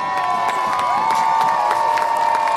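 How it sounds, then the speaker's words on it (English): An airshow crowd cheers for the Royal Air Force Aerobatic Team, the Red Arrows, with a steady wash of loud voices and whoops mixed with a droning tone. "Keep cheering, keep cheering."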